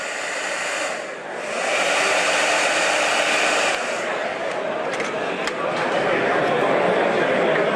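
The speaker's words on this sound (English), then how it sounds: "Again with the hairdryer." A hair dryer blows with a loud, steady rushing whoosh, briefly dipping before resuming at full strength throughout.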